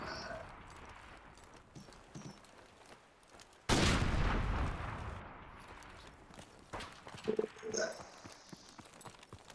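Grenade explosion in a multiplayer shooter on a beach map, a loud sudden blast around the middle followed by a decaying rumble, with scattered gunfire pops and quieter clatter before and after, under faint background chatter.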